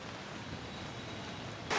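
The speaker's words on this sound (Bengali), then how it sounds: "বাইরে কি পরিমাণে বৃষ্টি হচ্ছে দেখতে পারেন। প্রচুর পরিমাণে বৃষ্টি হচ্ছে" Heavy rain pours steadily at a village cattle market, a dense even hiss close by with no voices, ending in a sudden brief burst of sharper noise.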